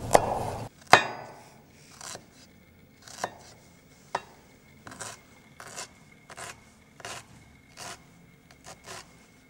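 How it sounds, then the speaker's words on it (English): Ginger is sliced finely with a knife on a cutting board, giving a series of crisp, close chopping taps in an uneven rhythm, roughly one every half second to a second, with a louder clatter at the start. "I'm going to make some very fine slices into the ginger."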